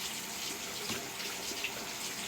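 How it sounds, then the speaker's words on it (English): Tap water runs steadily over dentures being rinsed at a sink, a constant close hissing stream with slight splashing variations throughout. "I'm gonna rinse them off really good."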